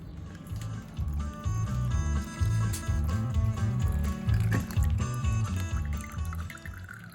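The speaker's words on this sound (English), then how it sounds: "We'll take the coolant drain plug out and it'll kind of dribble until we take the radiator cap off" Coolant dribbling out of the drain plug hole on a Yamaha YZ85 dirt bike, a steady liquid trickle and pour running continuously under a busy, fairly loud background hum.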